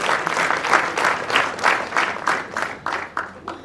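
Wedding guests clap together in rhythmic, pulsing bursts, loud and close, the beats rising and falling in a steady cadence with no talking over them.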